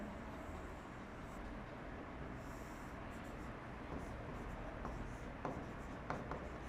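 Writing on a board during a Hindi-language lecture on Rajasthan's non-metallic minerals: a steady, close scratching with a few sharper taps near the end, over low room noise and with no talking.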